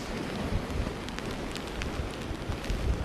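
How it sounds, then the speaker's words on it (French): Steady dense hiss of rain mixed with hail and frozen snow pelting a coastal railing, with scattered sharper ticks of impacts throughout. "c'est pas que de la pluie. On a également un peu de grêle et de neige"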